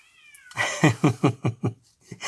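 A house cat meows close and loud in a rapid series of five or six rhythmic, insistent calls after a brief high whine, with no talking.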